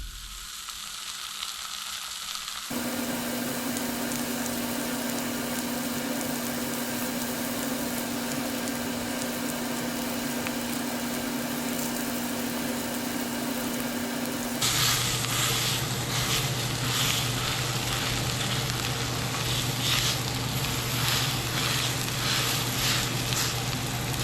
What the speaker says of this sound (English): We'll start by adding our pork. I like to brown it a little bit,